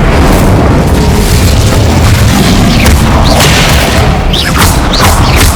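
Spell explosions in Hogwarts Legacy gameplay, a loud, dense barrage of booming blasts and crackling bursts that continues without a break, with sharp whooshing hits layered on top.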